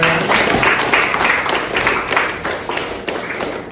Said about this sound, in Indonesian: Beri tepuk tangan untuk Anda